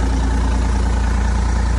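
Doosan DX50R-7 mini excavator engine idling, heard up close by the exhaust: a steady, low diesel rumble with an even pulsing throb, continuous and moderately loud with no talk.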